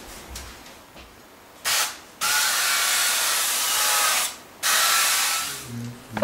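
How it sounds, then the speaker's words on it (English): Two hissing bursts of an aerosol oil spray onto a baking tray, each lasting a couple of seconds, close to the microphone with quiet gaps in between. "Now sprinkle or spray some oil to your tray so that the lasagna does not stick"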